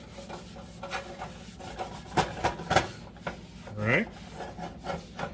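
A towel rubbing oil into a cast iron pan while seasoning it, with repeated close scrubbing and rasping strokes, some louder sweeps in the middle, under occasional brief talk.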